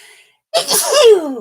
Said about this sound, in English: Sometimes I get to coughing and then I start sneezing.